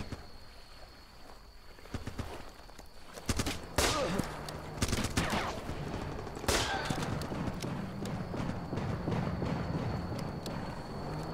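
Gunfire in the game Running with Rifles: bursts of rifle shots and rattling automatic fire, some sharp and close, others more distant, over a busy battlefield rumble.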